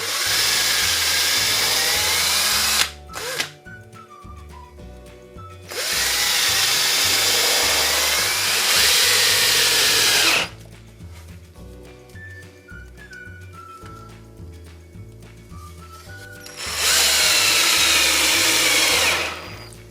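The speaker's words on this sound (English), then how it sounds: "drill us a couple more holes here" A power drill whirs loudly in three long bursts, each several seconds, drilling holes in a wooden piece for a hanging flower holder, separated by quieter stretches with faint background music.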